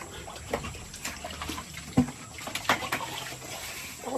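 Water splashes and trickles at a rural farm house, quiet and close, in a few soft, irregular splashes.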